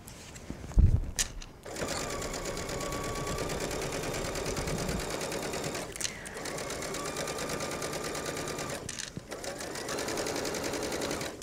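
A sewing machine stitching down a jacket facing seam runs in long steady bursts with a whirring motor and rapid needle clatter, pausing briefly twice between runs, close by with no voices.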